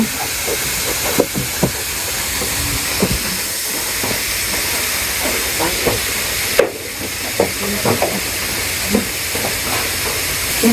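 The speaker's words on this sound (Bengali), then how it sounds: "এই লাউয়ের মাঝে এখন হলুদ লবণ আর একটু জল দিয়ে আগে ভাপ দিয়ে নিব" Bottle gourd steams in a pot with turmeric, salt and a little water, giving a steady close hiss broken by scattered clicks and light taps, with one sharper knock partway through; no one speaks.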